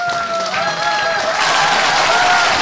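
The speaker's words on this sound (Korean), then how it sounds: "박수 한번 주십시오." An audience at a Korean singing contest for disabled and non-disabled performers applauds, with steady clapping that grows fuller and louder over a few seconds while a voice carries over it.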